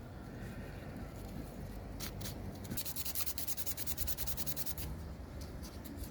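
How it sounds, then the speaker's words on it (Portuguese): A bamboo fishing net needle is sanded by hand, steady soft rubbing that turns into quick rhythmic back-and-forth scratching strokes, close and quiet. "Você vai lixar ela até que essa ponta aqui, ó, fique completamente livre"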